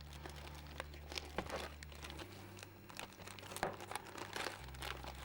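Packaging around an MDF container terrain kit is opened, with quiet crinkling and tearing bursts over a steady low hum, no talking.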